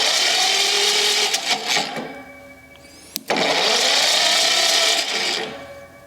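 An old rusty engine, idle for 25 years, cranked over by its starter in two long, loud grinding bursts separated by a short pause and a sharp click, with no one talking.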